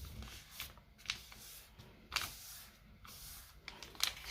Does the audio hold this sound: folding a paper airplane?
yes